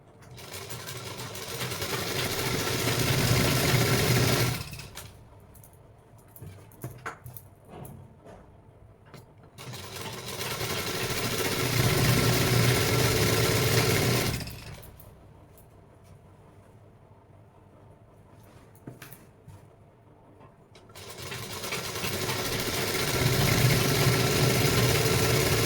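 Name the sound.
sewing machine stitching ladies' pant pieces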